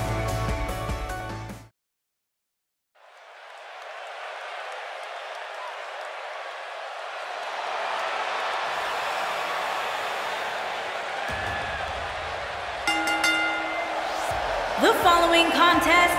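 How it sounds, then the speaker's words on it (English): A wrestling arena crowd in the video game WWE 2K18 swells into a steady, loud roar of cheering after a brief silence, with music and commentary edging in near the end. "Listen to this crowd, guys. They're fired up for this one"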